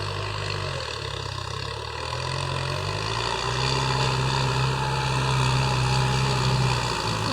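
A Kubota M9540 tractor levelling a rice field runs with a steady, heavy diesel drone that rises slightly in load partway through, close and continuous with no talk.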